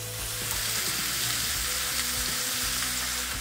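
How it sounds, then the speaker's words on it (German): Vegetables and veal shank sizzle in a pan on a grill outdoors in winter, a loud, steady frying hiss with faint stirring clinks and a low background hum throughout. "Wenn das Gemüse schön anbraten ist, können wir mit der Kalbshaxe wieder in die Pfanne rein."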